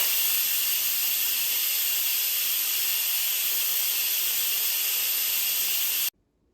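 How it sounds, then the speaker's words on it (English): An Instant Pot pressure cooker vents steam in a quick release after making chicken bone broth, a loud, steady, close hiss that holds for about six seconds and then cuts off abruptly to near silence. "so let's quick release the steam."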